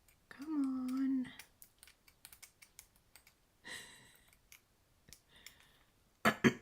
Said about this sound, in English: I'm cutting an extra snowflake because I think that I didn't cut enough.